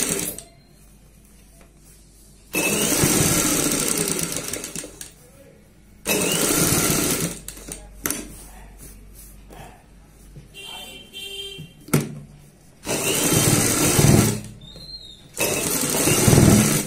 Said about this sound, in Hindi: ऊपर से यहाँ पे सिलाई लगा देंगे